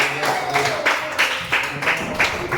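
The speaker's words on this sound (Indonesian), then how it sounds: "Oke, tepuk tangan untuk kalian." A class of children claps together in a classroom, a ragged burst of applause with uneven repeated hand claps at moderate level.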